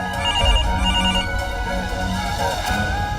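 A telephone rings on and on without being answered, a steady repeating electronic ring that fills the room alone, with no voices.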